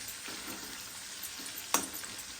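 Garlic frying in oil while it turns slightly red, a soft steady sizzle with a faint stirring scrape and one sharper tick near the end, quiet and close with no talking.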